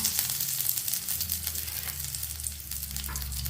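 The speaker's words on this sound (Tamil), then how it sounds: "இப்போ கடுகு எண்ணெய் ஊற்றிக்கிறோம் கடுகு போட்டுக்கிறோம் கடுகு பொறிஞ்சிட்டு கருவேப்பிலை போட்டுக்கிறோம்" Mustard seeds and curry leaves sizzle and crackle steadily in hot oil, a close, continuous frying hiss with scattered pops and a low stove hum underneath, no voices.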